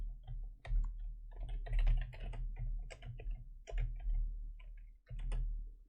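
Quick clusters of clicky keypresses come from a computer keyboard at close range, in irregular bursts separated by brief gaps, with no talking.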